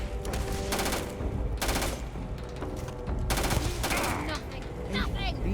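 Bursts of automatic gunfire in Starfield, several rapid volleys separated by short pauses, loud and close, with game sounds between bursts.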